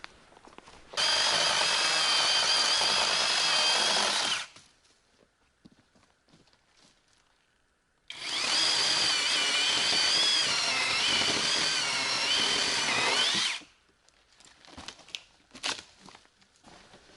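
Battery-powered cordless saw cutting firewood in two loud, steady bursts of high-pitched buzzing, each lasting several seconds, separated by a quiet pause with faint handling noises.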